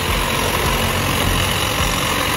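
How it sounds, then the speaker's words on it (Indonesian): Roadside traffic with motorbikes and cars passing, a steady, loud wash of engine rumble and road noise with no distinct gaps between vehicles. "Di pinggir jalan banyak lalu lalang motor dan mobil."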